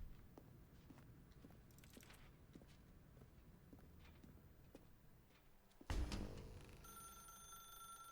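Soft footsteps tread through a quiet room in The Stanley Parable, then a thump, after which a telephone begins ringing with a bright, sustained bell tone near the end.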